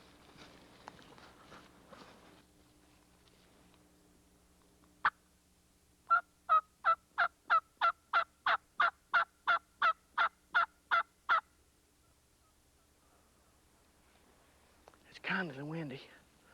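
Outdoors on a windy evening, a run of about a dozen evenly spaced hen-like yelps from a turkey call is followed by a wild turkey's rolling gobble answering briefly near the end.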